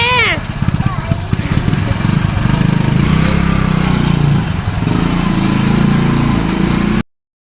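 A motorcycle engine runs loudly and close by, a steady rough chugging with a brief voice at the start, continuing until it stops abruptly.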